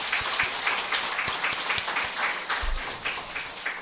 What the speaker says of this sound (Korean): 오늘 격려 박수 한번 했으면 좋겠어요